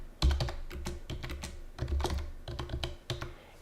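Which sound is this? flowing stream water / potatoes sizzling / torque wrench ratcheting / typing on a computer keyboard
typing on a computer keyboard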